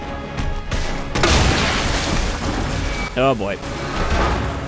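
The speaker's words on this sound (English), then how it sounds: "Flashbang's actually handy here." A flashbang grenade goes off in Resident Evil 2 with a deep boom, and a rumbling roar follows. A short exclamation comes partway through.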